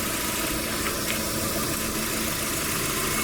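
Proton Satria GTI with a blueprinted engine idling: a steady, even mechanical hum with a constant low rumble, close by and unbroken, with no voices over it.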